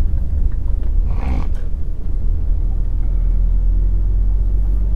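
Cars speed past on a road near an acceleration lane, a loud continuous low rumble of traffic with a passing swell around the second second, with no talk.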